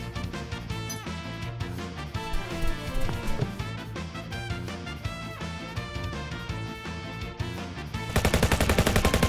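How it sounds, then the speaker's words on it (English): Cannon fire in Final Fantasy VII: Ever Crisis, a dense run of repeated booming blasts over loud game music, growing heavier and more rapid toward the end. "What was that? Cannon fire?"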